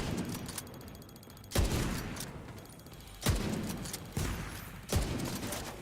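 Gunfire in The Division, a series of sharp, punchy shot bursts at roughly one-second intervals over a quieter background of game ambience.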